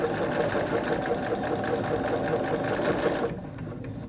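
A sewing machine stitches quarter-inch seams on quilt patchwork pieces in a steady, fast mechanical whir that runs close and continuous before dropping off near the end.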